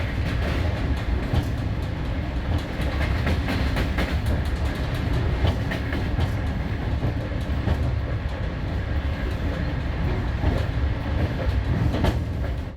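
A loco-hauled passenger train rumbles along at about 100 km/h through the Georgian countryside with a dense, continuous low roar and rattling clatter, heard from inside or close by, with no voices.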